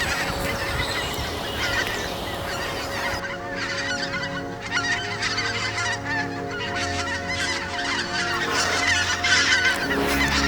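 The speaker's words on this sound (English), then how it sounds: "all of the geese begin to return to their winter territories, and they are loud" A large flock of geese honks continuously in autumn in Germany, many overlapping loud calls forming a noisy, steady chorus with no talking.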